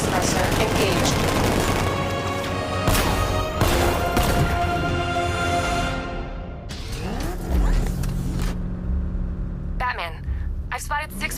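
A tank's riot suppressor gun firing in the video game Batman: Arkham Knight: loud, rapid bursts over the first half, then thinning into rumbling and scattered shots, with voices talking over the action.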